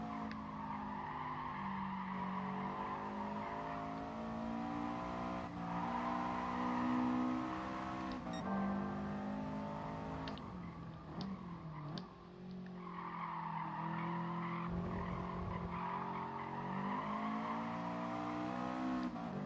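Race car engines whine in GT Sport, a steady layered engine tone running the whole time with brief tire squeals in the middle, held fairly low and quiet.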